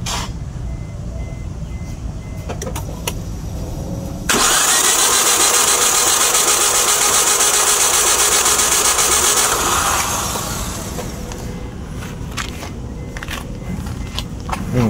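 A Proton Persona car engine with a rough, misfiring condition cranks and starts, then runs loudly for several seconds before settling into an uneven, sputtering idle, heard up close with no talk.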